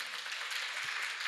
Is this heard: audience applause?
yes